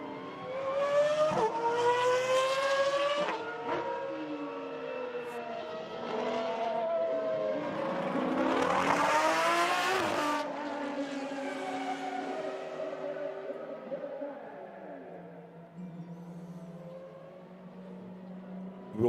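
Lamborghini SCV12 race car engines screaming on the Barcelona circuit, with rising and falling gear-change sweeps, a loud close pass near the middle and the roar fading to a lower drone near the end.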